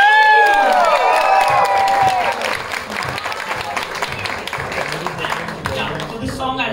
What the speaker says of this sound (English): please give a huge round of applause to Manasvi